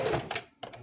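A sewing machine runs a short back stitch on underwear fabric, two quick bursts of rapid mechanical stitching separated by a brief pause, close and fairly quiet.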